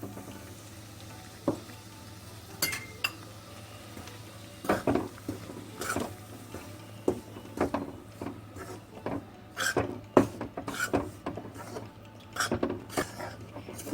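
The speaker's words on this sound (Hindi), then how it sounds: "2 चम्मच घी डालकर आटा भूनेंगे" Wheat flour roasting in two spoons of ghee over medium heat for green moong dal jaggery ladoos, with repeated close scrapes and clinks of a spoon stirring against the pan over a soft low sizzle.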